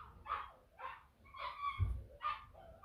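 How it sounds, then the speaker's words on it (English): A neighbour's dog gives a series of short yips and whimpering barks, moderately close, in four or five bursts with brief pauses between them. "Oh, what is wrong with my neighbour's dog?"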